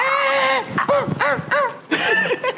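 A man imitates a dog, voicing a series of yelping, whimpering barks in quick irregular bursts, loud and close, with no other talk.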